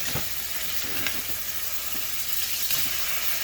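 Cheesy food frying in a pan at breakfast, a loud, steady sizzle with scattered pops and light spatter throughout.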